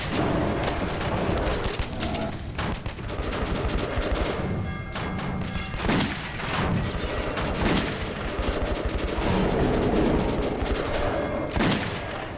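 Rapid bursts of gunfire in the shooter game Metro 2033, loud dense volleys and single shots repeating throughout with booming impacts.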